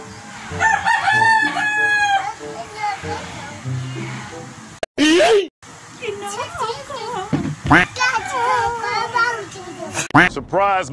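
A rooster crows loudly and repeatedly amid clucking fowl, with children's voices and speech overlapping throughout.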